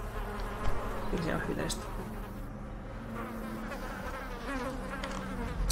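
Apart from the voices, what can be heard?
buzzing flies in Darkest Dungeon video game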